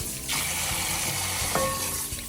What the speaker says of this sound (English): I'm gonna go ahead and give all the bones and the meat a quick rinse here